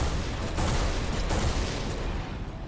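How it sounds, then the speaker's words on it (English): A flak cannon fires in the space shooter Everspace 2, a dense, steady roar of rapid bursts that stays loud and continuous with a slight drop near the end. "So here, this is the flak cannon."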